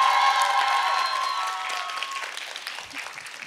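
A live concert audience claps for a drummer, dense, close applause that fades slowly while chords from the stage ring on underneath.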